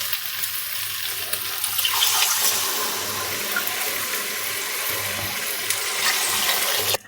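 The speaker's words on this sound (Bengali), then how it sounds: "আর আমি যে বাটি দিয়ে গোবিন্দভোগ চাল নিয়েছিলাম, এই বাটি মেপেই জলটা দিয়ে দেব।" Water pours steadily from a bowl into a pot of fried spice gravy and gobindobhog rice for a Bengali murighonto, a continuous close splashing gush lasting several seconds.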